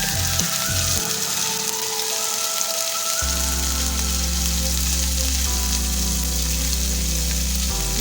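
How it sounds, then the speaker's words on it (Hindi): Garlic and ginger paste frying in hot oil gives a steady, close, loud sizzle and crackle that runs unbroken throughout, with no talking. "इसे हम अच्छी तरह ऑयल में फ्राई करेंगे।"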